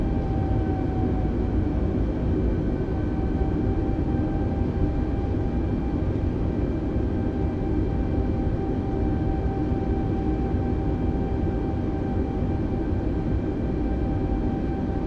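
An airliner rolls out and taxis in Microsoft Flight Simulator, a steady, loud engine drone with a faint high whine layered on top, constant throughout with no one talking.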